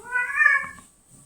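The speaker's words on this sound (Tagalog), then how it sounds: "Yung aming pusa maingay" A pet cat gives a single clear, close meow that rises and then trails off, followed by faint background noise.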